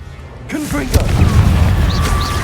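A Confringo fire-blasting spell detonates in the Hogwarts Legacy video game, a sharp boom just before the one-second mark followed by a sustained rumbling roar, with a voice briefly heard as it begins.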